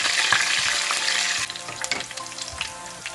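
Green chilies, curry leaves and seeds fry in oil over low-medium heat for a fish curry. A bright sizzle eases midway into lighter crackling broken by stirring clinks, with no speech.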